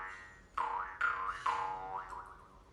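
A small Kazakh shanqobyz jaw harp is played in an alternate technique, giving three loud, close twangs with sliding, vowel-like overtones that fade into a softer trailing note, with no voices.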